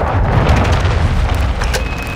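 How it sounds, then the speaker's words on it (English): Cruise missile explosion in Call of Duty Modern Warfare 2 multiplayer, a loud sustained booming roar with rumbling debris throughout, no talking over it. "Hostiles launched a cruise missile."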